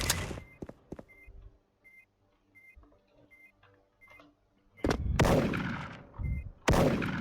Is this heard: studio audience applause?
no